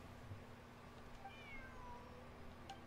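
Cat meowing in a video game, a faint pair of soft rising and falling meows over a steady low background hum, with no talking.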